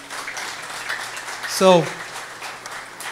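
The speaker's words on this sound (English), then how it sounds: "Can you guys give a round of applause for yourself too?" A church hall audience applauds in a steady, dense patter that carries on around a man's short spoken word.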